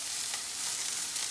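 Oil sizzles in a very hot pan while cooking scallops over leeks, a continuous, even hiss held close and fairly loud with no voices over it.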